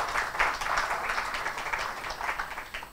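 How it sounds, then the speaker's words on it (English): An audience at a health and food talk applauds to welcome a speaker, with dense and continuous clapping that fills the room evenly and no voices over it. "Can we welcome him with a round of applause?"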